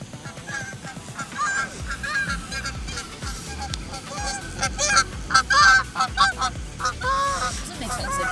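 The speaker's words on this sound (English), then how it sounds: "Doesn't make sense that geese can fly." Geese honk repeatedly on a golf course, a loud, busy chorus of overlapping calls that swells and falls in bursts, with no talk over it.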